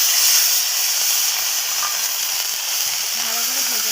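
A paste of onion, green chili, ginger, garlic and cashew fries in a wok with a loud, steady, close hiss and sizzle that continues without a break.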